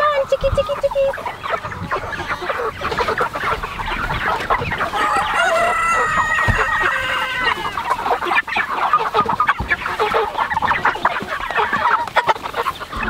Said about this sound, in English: We have about 40 here, Murray's Big Red broilers